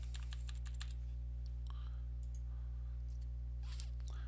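Mouse clicks and light key taps come in an irregular run on a computer while an online insurance calculator is used, close and crisp over a constant low electrical hum.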